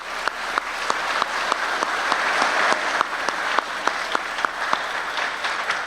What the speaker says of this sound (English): So please give Yvette and Gia a nice round of applause.